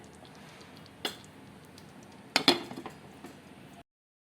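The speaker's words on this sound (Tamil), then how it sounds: "இதை அப்படியே நான் வந்து மூடி வச்சிடுறேன்" A lid goes onto a pot of white kurma on a gas stove, giving one light tap followed by a closer cluster of metallic clinks and rattles, near and without talk.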